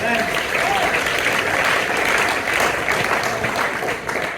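A church congregation applauds during a sermon, dense continuous clapping from many people filling the hall, loud and sustained, with a voice faintly underneath.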